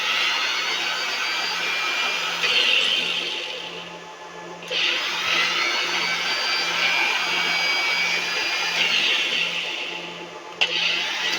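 An angle grinder powered directly from a solar panel whines at high speed, briefly dipping and spinning back up midway, then running on steadily with a harsh, piercing tone.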